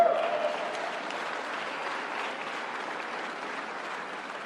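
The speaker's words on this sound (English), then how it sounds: "You can clap for that, man." Audience applause at a speech inside the CS Wind wind turbine manufacturing plant in Pueblo, Colorado: steady, dense clapping from a sizable crowd, sustained at even loudness throughout.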